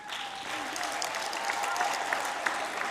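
An audience at an event launching young women into the digital economy gives a moderate, steady round of applause for a team, even and continuous throughout.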